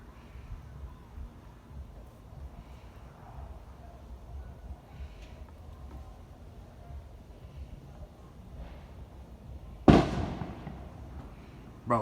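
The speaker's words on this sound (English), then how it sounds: "I'm trying to ignore them fireworks and them M80s." Fireworks and M80 firecrackers go off outside, one sharp loud bang near the end with a decaying rumble and another burst starting just after, over a low indoor hum.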